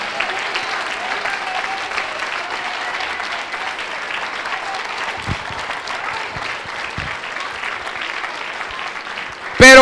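A church congregation applauding during a sermon, sustained, even clapping from a large crowd filling the room, with a sharp knock right at the end.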